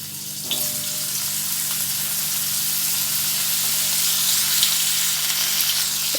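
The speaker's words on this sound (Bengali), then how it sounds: "এবার করলাগুলো ভেজে নেবো" Bitter gourd pieces frying in oil in a kadai, a steady dense sizzle that runs throughout, close and fairly loud, with a few faint clinks and no talk.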